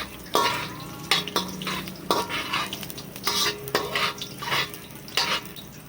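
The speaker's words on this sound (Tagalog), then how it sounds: "Haluin ang ating luya." A utensil stirs ginger in a hot pan while cooking Ilocano pinakbet, with repeated close scrapes and knocks against the pan over a faint sizzle, and no talking.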